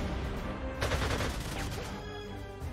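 Rapid gunfire from a fighter plane strafing ground targets in the strategy game Panzer Corps 2, a dense burst of shots rising suddenly over steady background game noise and then fading.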